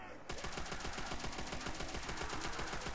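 A World War II-era automatic weapon in Call of Duty zombies, Verruckt map, fires a rapid continuous stream of shots, loud and close, after a brief quiet start.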